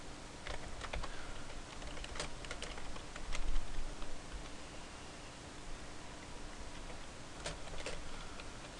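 Quiet, close clatter of fingers typing code on a computer keyboard, irregular bursts of soft key clicks with brief pauses, over faint background hiss.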